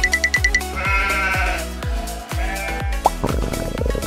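Sheep bleat repeatedly in short, wavering calls on a farm, fairly close and loud, over a continuous background of cartoonish music-like tones.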